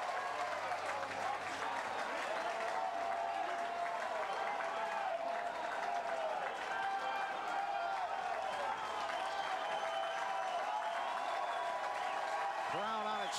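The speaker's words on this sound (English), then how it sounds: "Crowd on its feet." A baseball crowd at a college regional game stands and cheers with sustained, steady applause and clapping, with voices talking faintly underneath.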